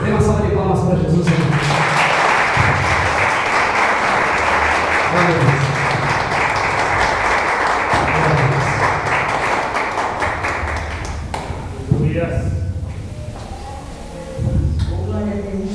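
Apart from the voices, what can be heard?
audience applause in church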